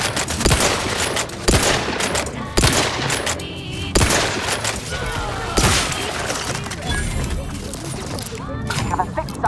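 A squad firing weapons in The Outer Worlds 2 video game, with repeated loud bursts of gunfire and sharp cracks at uneven intervals across the whole stretch, mixed with voices talking over the fight.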